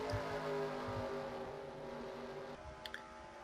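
NASCAR Camping World Truck Series trucks race through turn 3 at Gateway, their engines a steady distant drone with layered harmonic tones that fades slightly, followed by a couple of faint clicks near the end.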